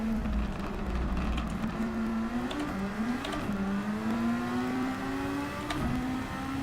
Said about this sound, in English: Right, should be able to get full throttle on down here.